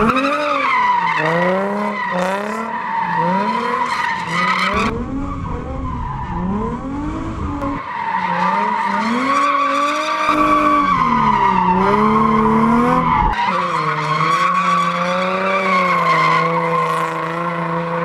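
A convertible car drifts with its tires skidding and squealing nonstop, a loud, close, wavering screech that rises and falls over a steady engine roar for the whole stretch, with no talking.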